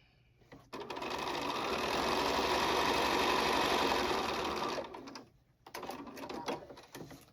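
A sewing machine stitches along a marked line on a charm-pack quilt block, a steady fast whirring run of about four seconds, then stops and resumes in shorter bursts.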